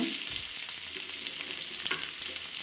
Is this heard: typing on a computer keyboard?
no